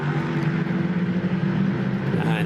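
A prototype race car's engine rumbles steadily during a Prototype Cup Germany race at the Hockenheimring, a constant low drone from onboard with no break or change in pitch.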